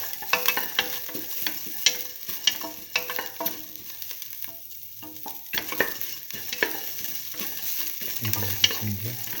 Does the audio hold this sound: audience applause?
no